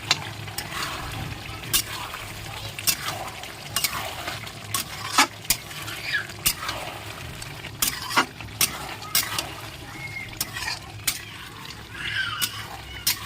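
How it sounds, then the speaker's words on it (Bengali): Duck meat curry stirred in a pot while cooking village-style, with steady scraping and light clinks of a utensil against the pot over a soft sizzle, the strokes spaced irregularly and close by. "আগলা করে একটু নাড়িয়ে নেবো"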